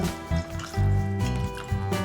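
Lukewarm water poured gently over a freshly repotted orchid, with soft drips, trickles and short splashy pours in irregular bursts, close and fairly quiet.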